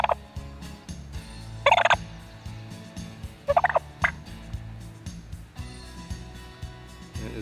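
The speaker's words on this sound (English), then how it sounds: "Now here's a purr on the Cass Creek game call." A Cass Creek electronic game call plays a recorded turkey purr: soft rolling trills broken by a few sharper gobbling bursts, steady and close over a low background hum.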